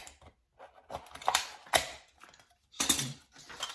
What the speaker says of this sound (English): now you can use the scissor to cut the rest.